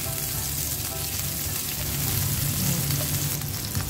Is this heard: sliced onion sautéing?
yes